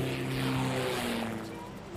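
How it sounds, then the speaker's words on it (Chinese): The propeller engine of a video game airplane drones steadily before takeoff, a loud, even hum with a low throbbing tone that fades slightly toward the end. "飞机很快就要起飞了"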